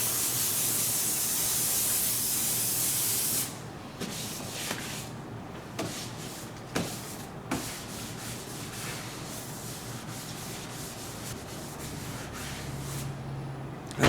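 A two-component clear coat spray can sprays in one long, steady, loud hiss for a few seconds. Quieter short bursts and faint handling rustles follow.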